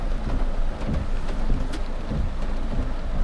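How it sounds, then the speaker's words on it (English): Steady heavy rain drums and hisses around a trike being driven down a road in the Philippines, a dense continuous wash with low rumbling underneath and no voices. "rain here in the Philippines."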